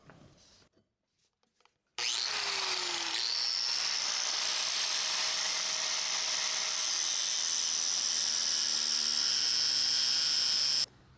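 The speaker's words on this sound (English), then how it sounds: "I'm just going to use the angle grinder." Angle grinder cutting through coil spring steel for a forged knife, a steady loud high-pitched whine that starts abruptly after near silence and holds for about nine seconds before cutting off.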